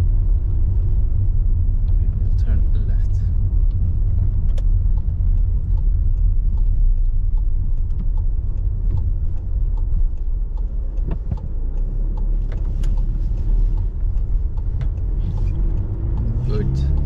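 A car drives at low speed through a Dutch town during a driving lesson, a steady deep interior rumble of engine and tyres running the whole time, close and constant, with people talking over it.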